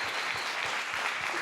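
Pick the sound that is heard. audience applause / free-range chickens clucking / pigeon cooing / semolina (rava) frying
audience applause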